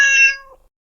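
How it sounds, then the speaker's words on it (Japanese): A cat lets out a single short, close meow that starts bright and loud and tapers off within about half a second, alone in silence. "猫、"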